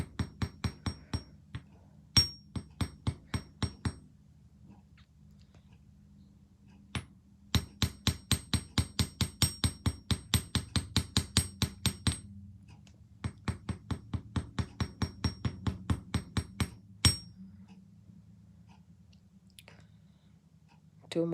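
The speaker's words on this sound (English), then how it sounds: "And then hammer it." A small hammer taps rapidly on metal earring wire, striking in fast rhythmic runs of sharp, bright clicks separated by short pauses, close and alone.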